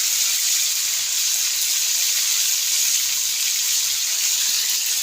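Bata fish frying in a pan with salt for a raw mango sour dish: a steady, loud, close sizzle and hiss of hot oil that continues unbroken throughout.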